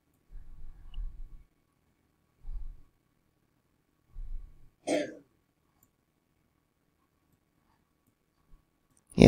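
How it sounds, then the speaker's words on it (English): A young boy with a virus and sinus infection coughs in the background, several muffled, low, throaty coughs spaced apart in an otherwise quiet room, followed by a sharper single burst. "If you hear anyone coughing in the background, that's my grandson."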